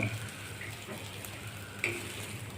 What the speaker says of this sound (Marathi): अशा टाईपमध्ये तेल घालून परतून घेणे